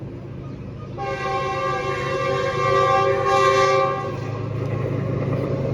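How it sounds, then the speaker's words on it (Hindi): A train passes close by, its low rumble joined by a long, loud horn blast of steady harmonic tones that holds for about three seconds before cutting off as the rolling rumble continues. "ट्रेन आ गई दोस्तों, शोर काफ़ी होगा"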